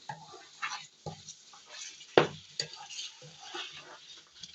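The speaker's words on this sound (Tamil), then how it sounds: "இப்போ நல்லா கிளறிட்டு மசாலா இப்போ ஆயிலும் மசாலாவுமா பிரிஞ்சு வரணும்" Masala being stirred as it fries in oil for Ambur mutton biryani: soft scraping strokes of a spoon through the pan over a low sizzle, with one sharp clink of metal midway.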